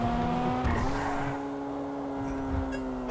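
A Toyota Supra speeds in GTA V, its engine holding a steady high whine with a brief tire squeal and a gear shift, loud and close throughout.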